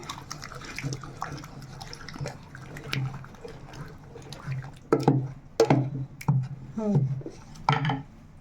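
Water splashes and pours into mashed lentils in uneven bursts, with sloshing and dripping sounds against a low steady hum, fairly close.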